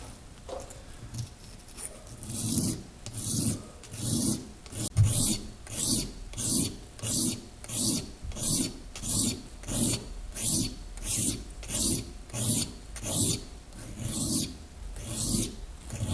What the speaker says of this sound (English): It's ready for the honing stone.